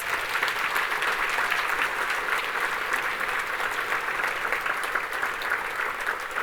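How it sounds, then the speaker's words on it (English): Steady, dense applause from an audience at a youth breakfast event fills the space, a continuous wash of many hands clapping at even loudness throughout. "Let's give them one more round of applause."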